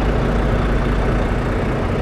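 A vehicle engine idles steadily throughout, a dense low rumble with broadband noise that stays constant and fairly loud, with no talking over it.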